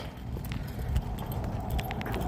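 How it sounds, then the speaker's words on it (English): Horses walking outdoors on a street in Mexico, hooves clip-clopping in a loose, uneven rhythm at moderate distance over steady background ambience, with no talk. "There's some horses."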